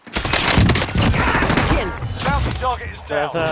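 Video-game gunfire, a loud burst of overlapping shots and impacts packed into the first seconds, fading as excited player voices take over the end.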